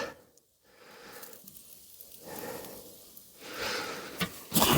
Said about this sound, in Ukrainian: Так, м'ясо смажиться.